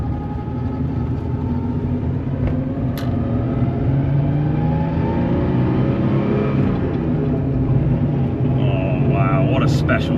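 A classic Porsche 930 Turbo engine, still warming up after a cold start, drones steadily at low revs while driving, a continuous rumbling hum throughout with a faint higher whine near the end.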